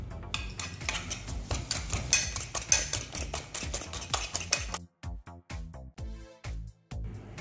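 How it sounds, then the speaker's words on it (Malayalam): Eggs and sugar beaten by hand with a fork for homemade birthday cake batter, a rapid rhythmic clinking and scraping of metal against a bowl, close and steady, with brief pauses near the end. "ഞാനിവിടെ ഫോക്കാണ് യൂസ് ചെയ്തിരിക്കുന്നത്"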